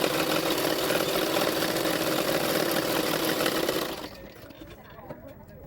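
Sewing machine stitching along the edges of blouse fabric, a steady close mechanical whir for about four seconds before stopping, leaving quiet handling sounds.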